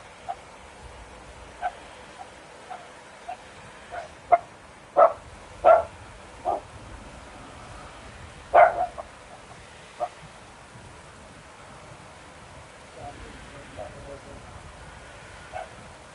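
A dog barks in a series of short, scattered yips and woofs at a cat, some louder and closer than others, with a few quiet gaps between bursts over low background noise.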